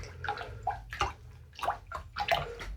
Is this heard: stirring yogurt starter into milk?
yes